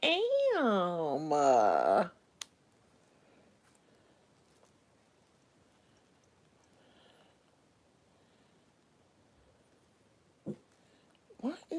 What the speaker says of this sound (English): Who you barking at now?